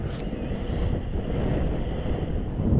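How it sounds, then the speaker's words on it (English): Strong wind buffets the microphone while cycling near Harrogate, a steady low rumble and roar, continuous and loud throughout. "It's really windy."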